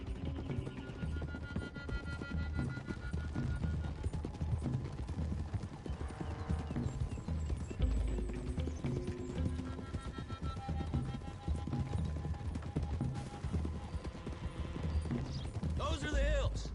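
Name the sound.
horses galloping on a road in video game Red Dead Redemption 2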